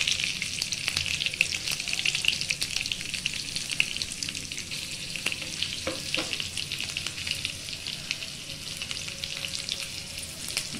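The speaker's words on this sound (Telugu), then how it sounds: "పచ్చిమిరపకాయలు వేస్తున్నాను ఎక్కువ వేయలేదని నేను చాలా తక్కువ వేస్తున్నాను" Green chillies fry in oil in a pan while bagara rice is being made, giving a steady, close, continuous sizzle with faint stirring scrapes and no talking.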